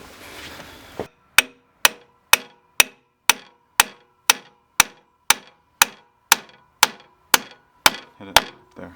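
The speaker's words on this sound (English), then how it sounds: "Let's tap it with a hammer." Sharp metallic hammer taps strike at a steady, even pace, about sixteen crisp blows in a row, each ringing briefly before the next, fitting a hydraulic pump shaft seal on a forestry mulcher.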